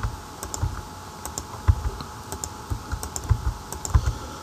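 Typing on a computer keyboard while entering data into a Python restaurant management program, with quick uneven clusters of close, crisp key clicks.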